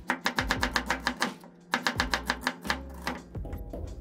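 Quick knife strokes slice half an onion on a cutting board, two bursts of rapid, evenly spaced taps separated by a short pause, close and crisp with no talk.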